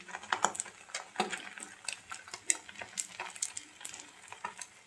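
Beaten egg with chopped tomato frying in a pan for an omelette, giving a quiet, crackling sizzle broken by frequent light clicks and scrapes of a utensil.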